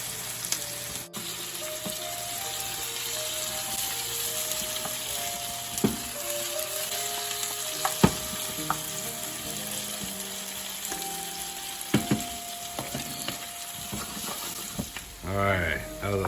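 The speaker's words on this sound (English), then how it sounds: "How long we cook these for? About 8 minutes? Yeah, just until the peppers are soft." Bell peppers fry in a pan with a steady, close sizzle that runs throughout, with occasional stirring clinks and scrapes and a brief rattle near the end.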